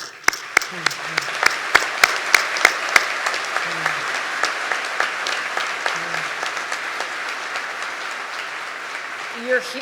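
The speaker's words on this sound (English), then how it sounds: "And I'm going to give you all a round of applause right now." Sustained applause from a crowd at a New York State Police graduation ceremony, a few sharp nearby claps standing out at the start before settling into a steady, even wash of clapping.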